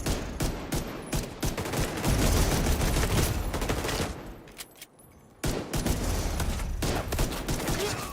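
Sustained bursts of rapid pistol gunfire in The Division 2, loud and dense, with a brief lull partway before the shooting resumes.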